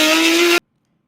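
A Porsche's engine revving hard, loud and close, a single sustained roar with a strong steady tone that cuts off abruptly after about half a second.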